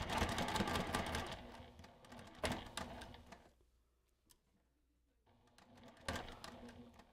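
A sewing machine stitching back and forth over elastic on a fabric mug cozy, making quick rattling bursts with a short quiet pause in the middle.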